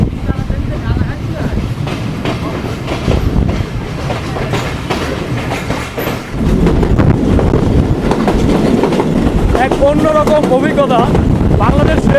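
The Mongla commuter train pulls out of Jessore railway junction with a loud, continuous rumble and rhythmic clickety-clack of wheels on rails, heard from inside a carriage as voices talk over it.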